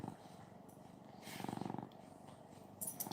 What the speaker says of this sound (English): You just purring away